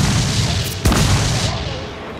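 Pirate ship cannons fire in Assassin's Creed IV Black Flag: a loud, dense boom with a sharp blast near the middle, set against continuous rumbling battle noise.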